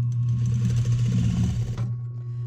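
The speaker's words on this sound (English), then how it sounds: "I'm just going to go through and sew them all and then re-tuck them in" A sewing machine stitches a men's narrow-side swimwear thong with a steady buzzing whir and rapid needle ticks. It runs close and loud for about two seconds, then stops abruptly, leaving a quiet hum.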